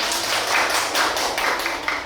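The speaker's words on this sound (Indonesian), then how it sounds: "Oke, jempol untuk Devi. Ya, tepuk tangan." A classroom of primary school children clapping together for a classmate, a dense patter of small hands lasting a couple of seconds at moderate loudness, without talk over it.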